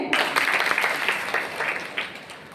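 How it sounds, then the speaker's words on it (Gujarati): Applause for a student at a student development programme, a dense patter of many hands clapping that swells at once, holds steady for a couple of seconds, then thins out slightly toward the end. "ભૂમિશા માટે તાળીઓ થઈ જાય."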